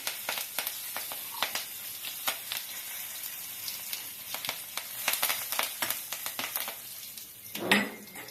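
Asafoetida and curry leaves go into hot oil in a pan for a dodka bhaji, giving a soft sizzle under repeated clinks of a metal spoon against the pan, quiet and close, ending in a brief louder splash of frying.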